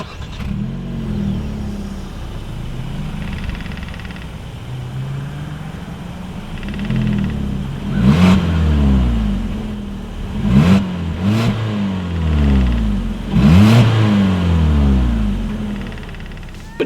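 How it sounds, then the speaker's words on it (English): 2018 Hyundai Kona engine revving through its single exhaust outlet, starting at a low idle and then rising in several repeated throttle blips of climbing and falling pitch, heard up close. "Here is that exhaust clip."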